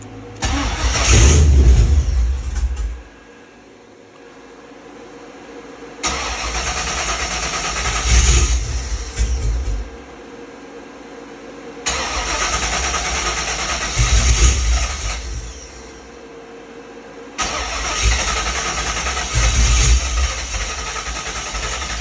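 An engine on a vehicle nicknamed Howzat, repaired after a starting fault, cranks and runs in four loud bursts separated by quieter idling, with revs rising in each burst.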